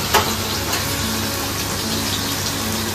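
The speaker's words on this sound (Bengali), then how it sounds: "আলুটা একটু লাল লাল হয়ে ভাজা হবে।" Potatoes fry in a pan with a dense, steady hiss and sizzle that holds loud and even throughout, a faint clink near the start and no talk.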